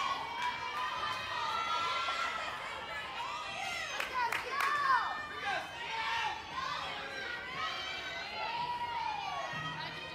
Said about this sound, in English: You can hear the screams and the yells and the chants from the computer or from the live stream.